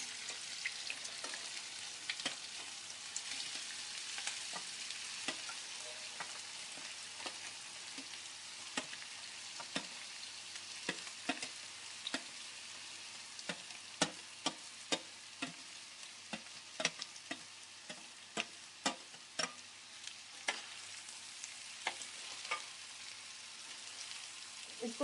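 Sweet rice sizzling and frying in a pan, a steady soft crackle with frequent sharp ticks and scrapes from stirring throughout, no talking.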